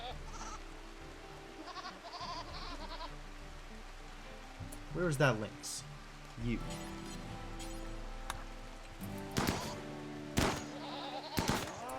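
Goats bleat several times in the colony game Rimworld, mid-distance calls spread over ambient game sound, with a person talking intermittently.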